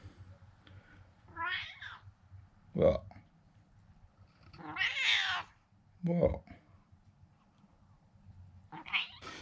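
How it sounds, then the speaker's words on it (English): A house cat meows indoors several times, drawn-out wavering calls spaced a few seconds apart, moderately close, with a person speaking briefly in between and a low background hum. "Oh God, the cat's back in. She's just come in."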